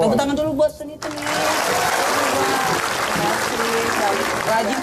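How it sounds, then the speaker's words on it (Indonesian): A television studio audience bursts into dense, loud applause after a brief moment of talk, the clapping continuing steadily to the end. "Tepuk tangan dulu buat Donita nih."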